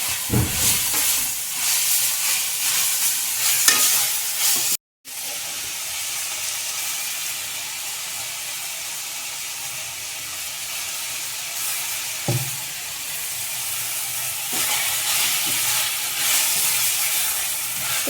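Vegetables are stir-fried in a kadai for a North Karnataka palya, a continuous moderate sizzle with occasional scraping and stirring knocks, heard alone without voices.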